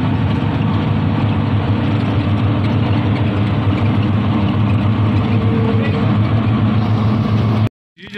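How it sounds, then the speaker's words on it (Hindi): Auto rickshaw engine droning steadily during a ride through Lahore streets, loud and close with constant low rumble and traffic noise, cutting out abruptly near the end. "तो अभी हम कर रहे हैं जी रक्शे का सफ़र"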